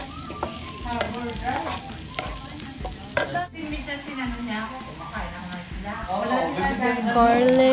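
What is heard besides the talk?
onion sauteing in oil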